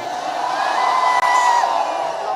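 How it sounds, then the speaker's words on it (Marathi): Dense crowd roar and whoops from a large gathering at a Dahi Handi Govinda festival in Ghansoli during heavy rain, a steady loud wall of cheering throughout with a sustained shout riding on top. "एवढा प्रचंड जल्लोष उत्साह पहिल्यांदा पाहायला मिळतोय"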